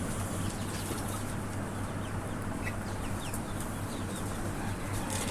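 Local country chickens in a poultry shed with an earthen floor give a steady, dense murmur of clucking and soft calls, continuous and close throughout, with no talking.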